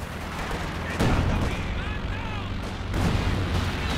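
Machine gun and anti-tank strafing passes from aircraft in a competitive 2v2 strategy game, heard as dense, sustained rumbling gunfire bursts that swell twice loudly over a steady background, with talk beneath.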